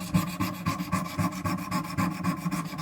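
A knife blade is scrubbed rapidly up and down on the abrasive paddles of a Wicked Edge sharpener, making a close, rhythmic rasping of quick even strokes at about six per second, with no voices.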